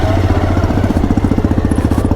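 A motorcycle engine chugs close by in a fast, even putter, its rhythmic pulses steady and loud throughout the short stretch.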